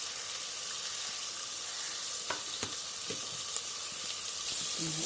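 Spices including red chilli, cumin and coriander powder fry with the base for a bata fish curry, a steady hissing sizzle in the pan with a few soft stirring knocks, and no talk.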